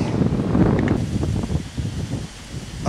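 Strong, cold wind gusts roar steadily across the microphone outdoors beside a canal during spinning fishing for pike, a loud continuous rushing with faint rustling.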